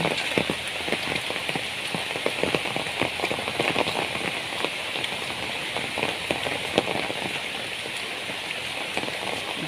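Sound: heavy rain

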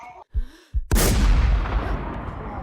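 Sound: gunshot in a shooting video game, M107 rifle

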